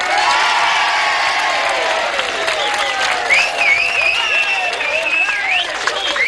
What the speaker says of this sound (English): Let's have a deep round of applause for the 2 gallant winners, Susie Birchall and Steve Fisher.